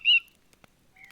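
A short bird squawk from The Book of Unwritten Tales 2 video game, a single loud cry at the start followed by a faint click and a softer second call near the end.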